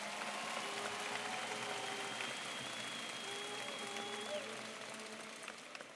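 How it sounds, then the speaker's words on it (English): Steady applause from a crowd at a school district convocation, a dense wash of clapping that holds evenly and then slowly tapers toward the end, with tonal sounds faintly underneath. "a big round of applause for our incredible students"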